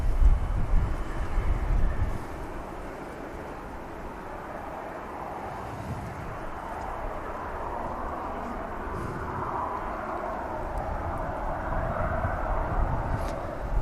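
An XL Airways airliner taxiing slowly at Manchester Airport, a steady broad engine rumble heard from a distance with a low drone that swells and fades slightly over time.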